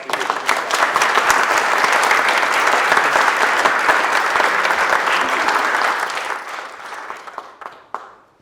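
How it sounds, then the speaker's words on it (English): A crowd applauds a presenter at an event, dense sustained clapping from many people that holds loud and steady for several seconds, then thins out and tapers off with a few last claps near the end. "let's give her a round of applause"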